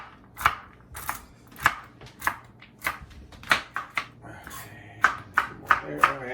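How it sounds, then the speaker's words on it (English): Walnuts being coarsely chopped with a knife on a board, sharp, irregular thuds and clicks spaced about every half second, close and distinct, with quiet gaps between strokes. "So I'm going to just go through here and coarsely chop them"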